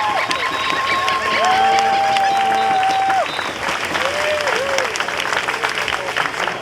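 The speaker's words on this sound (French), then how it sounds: "pour toutes les infirmières qui vont finir par se réveiller, une bonne main d'applaudissements" Loud, enthusiastic clapping and some cheering from a crowd at a Trois-Rivières rally in support of nurses, sustained throughout with whistles and shouted voices rising above it.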